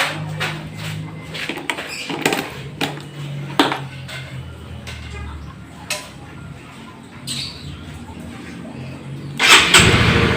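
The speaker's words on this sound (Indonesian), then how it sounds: "saya akan menyalakan motor" A standard motorcycle is being started, with several short whirring starter bursts separated by pauses, and a louder burst near the end as the engine catches.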